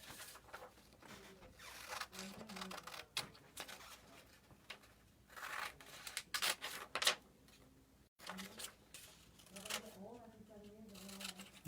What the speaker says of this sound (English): So first I need to cut them out.